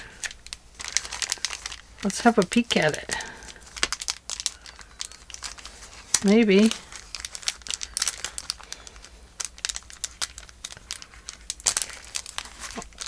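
Paper rustles and crinkles in close bursts while handling happy mail, interspersed with brief speech in a quiet room.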